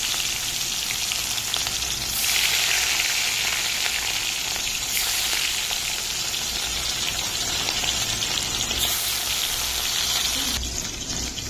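Fish frying in hot oil gives a loud, steady, close sizzle throughout, with brief bursts of stronger crackling as pieces shift in the pan.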